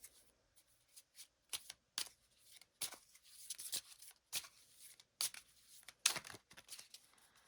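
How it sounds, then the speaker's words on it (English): Oracle cards being shuffled close up, a soft, quiet run of papery riffles and slaps in irregular bursts, with no talking. "let's get some final oracle cards for you"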